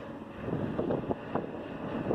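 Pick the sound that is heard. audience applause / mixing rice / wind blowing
wind blowing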